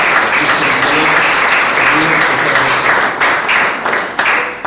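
Loud, dense applause from a conference audience filling the room for a professor after a lecture, steady clapping throughout that tapers only slightly near the end.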